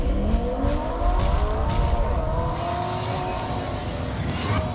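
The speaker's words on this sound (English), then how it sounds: "Rev up your engines!" A car engine revving loudly and close by, its pitch rising and holding in a sustained roar, with a faint siren-like whine layered on top and no speech.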